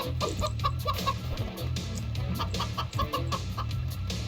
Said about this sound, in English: This chicken's annoying.